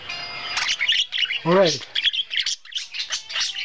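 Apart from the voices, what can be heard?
birds chirping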